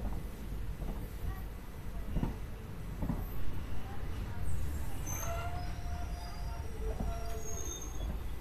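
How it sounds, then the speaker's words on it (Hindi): A passenger train pulls into Rajgir railway station, its wheels squealing and grinding in drawn-out high screeches over a low rumble, with faint voices in the background. "अपनी ट्रेन की अराइवल हो चुकी है राजगीर रेलवे स्टेशन पर"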